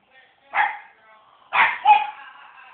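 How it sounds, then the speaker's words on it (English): Three sharp, close barks from a pug aimed at a balloon, the first standing alone and the last two in quick succession, with a faint voice murmuring beneath them. "She's barking at the balloon."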